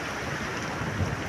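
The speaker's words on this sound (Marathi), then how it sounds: "भरतीचं पाणी." Incoming tide water and sea waves wash around rocks at the shore, a steady close rushing surge mixed with wind buffeting the microphone.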